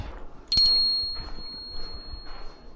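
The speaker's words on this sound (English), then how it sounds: "I also have a bear bell." A hiker's bear bell on a day hike in a ravine gives one sharp, bright ding. Its clear ringing tone fades slowly over a couple of seconds against quiet outdoor background.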